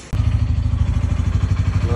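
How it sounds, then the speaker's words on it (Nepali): Motorcycle engine starting up and running, a close, loud, pulsing chug that kicks in after a brief pause and continues steadily. "मेरो दाइ जान्नको बाइक रेडी हुँदैछ गाइज।"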